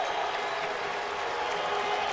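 A crowd at a college football game between Hawaii and Tulsa in 2003, a dense, continuous roar of cheering and applause from a large stadium audience, steady and sustained across the whole moment with no clear speech on top.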